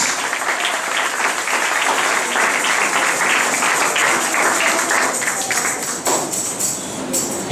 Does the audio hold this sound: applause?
yes